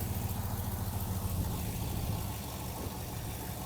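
A 2000–2007 GMC/Chevy 2500HD truck engine idles steadily and close up, a continuous low rumble with an even level throughout and no voices.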